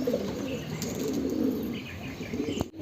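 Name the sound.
caught pigeon cooing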